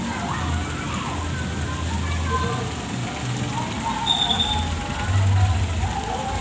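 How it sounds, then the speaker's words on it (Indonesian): Heavy rain pours at night during a takbir keliling procession through Slorok village in Garum, Blitar. It makes a steady, dense hiss that stays loud throughout, with some faint background noise mixed in. "hujan turun sangat deras sekali"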